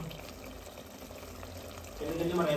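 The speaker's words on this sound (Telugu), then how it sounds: "సో ఇప్పుడు దీంట్లో కొన్ని వాటర్ యాడ్ చేసుకోవాలి మళ్ళీ" Water is poured into a pot of mutton curry on the stove. A low background hum and faint kitchen noise come first, then a brief, fuller splash of liquid near the end.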